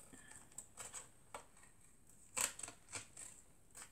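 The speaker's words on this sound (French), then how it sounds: "on coupe le surplus qui dépasse" Scissors cut through cardboard for crafting aluminium charms, giving a quiet series of close, crisp snips at an uneven pace, with one sharper cut partway through.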